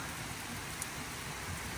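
Extreme rainfall pours down at a Cape Cod campsite with tents during a summer storm, a steady, dense hiss of rain with no pauses and no speech.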